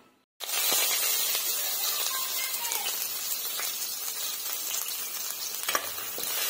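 Onions hit hot oil in a pan with a sudden loud sizzle, then keep up a steady crackling fry with a few small scraping stirs, close by and with no talking.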